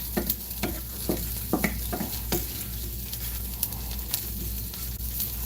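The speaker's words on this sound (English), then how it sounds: "the corn tortillas are getting kind of crispy. They're browning a little bit" Corn tortillas frying and crisping in a pan, a steady sizzle with irregular sharp pops and spatula clicks, close and moderately loud with no talking.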